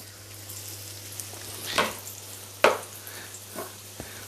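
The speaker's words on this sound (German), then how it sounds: "Wenn es so brutzelt, ein bisschen runterdrehen und einfach einmal wie Schnitzel anbraten." Breaded green asparagus spears fry like schnitzel in a hot pan, giving a steady low sizzle broken by a few sharper pops and light clatters.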